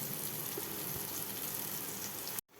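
Potatoes and masala with sambar powder frying over a low flame in a pan, a dense, steady sizzle heard close up and continuous, cutting off abruptly near the end.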